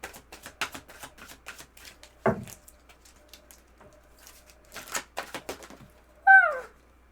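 Tarot cards are shuffled and laid out on a table, giving soft papery flicks and taps in quick bursts, a heavier slap near the middle and a short squeaky sweep near the end, close and fairly quiet.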